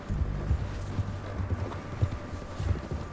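Horse hooves clip-clop steadily in Red Dead Redemption II, a quick rhythmic plodding at moderate loudness with a low rumble beneath, no talk over it.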